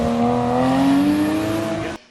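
A Porsche at an autocross event drives past with a steady, loud engine note that climbs slightly in pitch, then cuts off sharply near the end.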